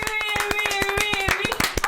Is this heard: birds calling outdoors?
no